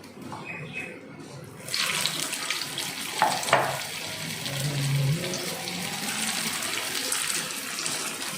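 Onion vadai deep-frying in hot oil, heard as a steady, hissing sizzle that swells after a quieter start and continues evenly, with a few faint clinks.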